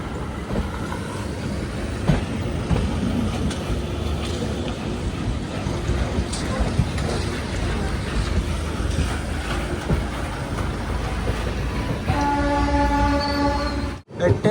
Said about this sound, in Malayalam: എട്ട് 56 ട്രെയിൻ ഇതാ രാജപാളയം റെയിൽവേ സ്റ്റേഷനിലേക്ക് എത്തുകയാണ്